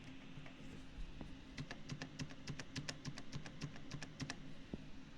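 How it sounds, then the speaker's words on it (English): Soft keys are typed in a quick, even run on a computer keyboard, with spacebar and backspace presses mixed in, close and quiet, with no talking. "Surprisingly, my spacebar isn't the loud one. The loud one is backspace."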